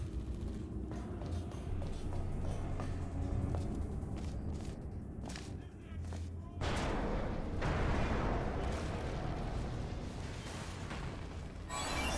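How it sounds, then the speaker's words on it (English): Loud, dense bursts of gunfire and booming blasts from the video game Portal 2, with rapid shots and a sharp transient midway through, continuing steadily throughout. "I heard gunfire!"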